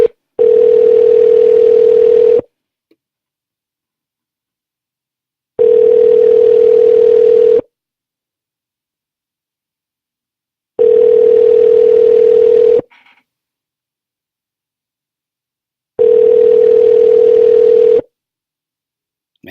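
A telephone line ringing while calling someone: four steady, loud tones of about two seconds each, separated by roughly three-second silences, with nothing else heard.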